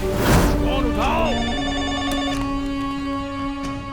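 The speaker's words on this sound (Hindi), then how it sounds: "फोन उठाओ।" A telephone rings with a steady electronic tone in a Hindi-dubbed horror film, sounding over a man's raised, urgent voice early on, then continuing alone.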